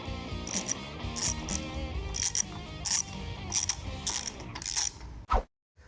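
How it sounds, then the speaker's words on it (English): A ratchet clicks in several quick bursts while bolts on a Ford F100 pinion support are cinched down, crisp close ratcheting with short pauses between pulls, ending abruptly. "We will cinch this all the way down until it's fully seated and torque them down from there."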